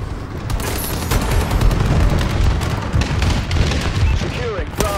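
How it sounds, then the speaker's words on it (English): Explosions from a friendly bombing run in the Call of Duty: Advanced Warfare multiplayer game, a dense, steady barrage of booms and gunfire rumbling loudly throughout, with radio-style voice callouts mixed in. "Friendly bombing run incoming"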